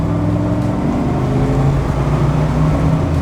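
A 1973 Corvette with a 454 big-block V8 pulls hard in second gear, its deep engine roar rising steadily and loud throughout, with no talk.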